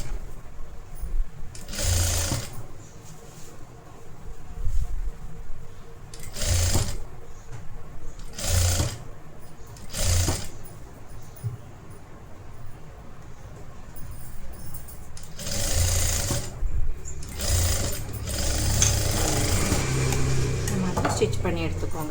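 Sewing machine stitching a collar-neck blouse sleeve, several loud bursts of rapid mechanical whirring with pauses between, plus handling clatter, with some talk in the background.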